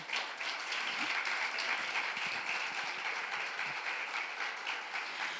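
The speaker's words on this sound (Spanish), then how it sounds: "Dale un aplauso al Señor" Church congregation applauding for the Lord at a Spanish-language service, dense continuous clapping filling the room at an even level throughout, no speech on top.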